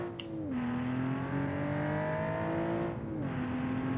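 A car's engine and exhaust pulling hard under acceleration, a steady loud drone climbing in pitch, easing off briefly near the start and again about three seconds in before rising again.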